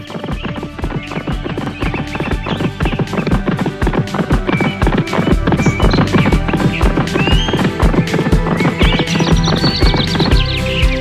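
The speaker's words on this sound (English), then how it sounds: "Now the horse took off as fast as he could." Rapid, steady hoofbeats of a galloping horse in an animated children's story fill the clip, loud and close, with a high neigh breaking through near the end over a musical backdrop.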